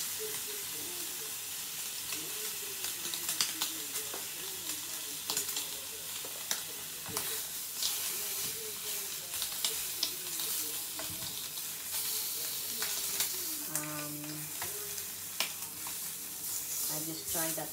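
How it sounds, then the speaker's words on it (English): Bacon fries in a pan with a continuous crackling sizzle, broken by frequent utensil clicks and scrapes as it is moved around, plus a brief muffled voice in the background. "So now I have to cook properly the bacon."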